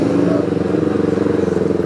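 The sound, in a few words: single-cylinder motorcycle exhaust revving, Sakshi's new bike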